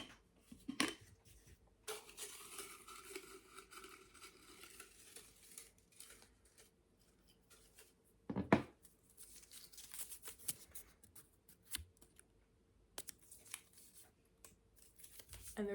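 Slips of paper shuffled and stirred by hand before one is drawn, soft rustling and scraping in quiet bursts with a few sharper knocks, close and faint, no speech.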